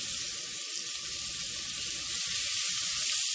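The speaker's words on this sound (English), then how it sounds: "To the pot, we're going to add some onion." Chopped onion hits a hot pot with cooked bacon and sizzles loudly, a steady bright crackling hiss with low clatter from stirring underneath, no voices.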